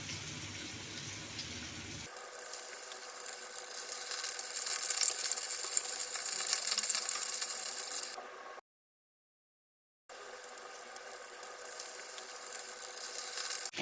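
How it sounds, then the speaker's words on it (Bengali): Pieces of bhola fish drop one by one into hot oil for crispy pakoras, setting off a loud, bright sizzle that swells, cuts out briefly, then resumes steadily. "এবারে তেলটা গরম হয়ে গেছে, দিয়ে দেবো একে একে মাছগুলো।"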